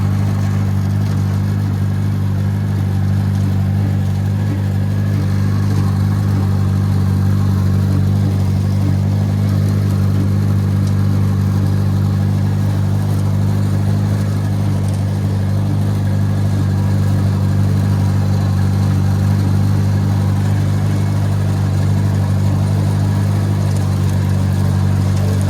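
A Farmall 404 tractor engine runs steadily while bush hogging around the edge of a field, a loud, continuous low-pitched drone with a mower whir and no talking.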